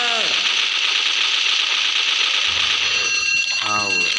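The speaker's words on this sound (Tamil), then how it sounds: "அந்த அலாரம் ஒன்று கர்மம் பிடிச்சது நின்று தொலைய மாட்டேங்குது." A continuous electronic alarm blares loudly throughout, with game sound effects and a brief voice-like burst mixed in near the end.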